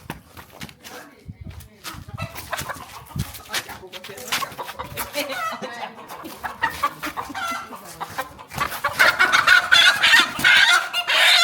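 Chickens cluck and squawk in an outdoor yard in Accra, Ghana, as people chase and grab a bird for dinner; the fowl noise grows louder and more frantic toward the end, mixed with excited talking nearby.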